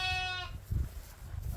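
A sheep at a sheepfold in Ostrov, Hunedoara county, lets out one short, nasal bleat, followed by low rumbling barnyard noise.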